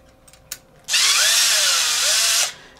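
A power drill spins up and runs for about a second and a half, loosening bolts on the underside of a crashed Traxxas XO1 RC car. A loud, steady whir rises and falls slightly in pitch, with light clicks before it.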